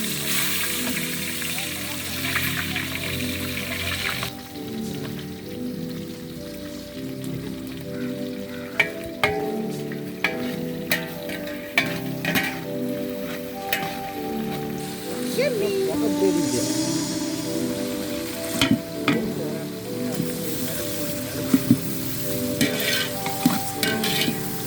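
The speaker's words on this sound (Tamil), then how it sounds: "பட்டை லவங்கம் சேர்த்துக்கிறோம். வெங்காயத்தை ஆட் பண்ணிக்கிறோம்." Onions frying with cinnamon and cloves in hot oil for egg biryani, a steady close sizzle with repeated stirring scrapes throughout and a voice talking over it.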